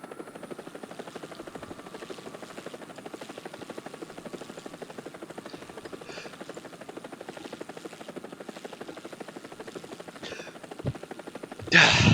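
A UH-1 Huey helicopter in the War Thunder video game flies with a steady, rapid rotor chop and engine drone throughout, close and continuous, with a short louder burst at the very end.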